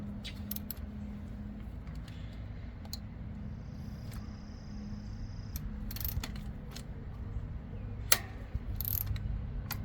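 A ratchet loosens 10mm ignition coil screws on a Polaris Slingshot with faint, sparse clicks over a steady low background hum.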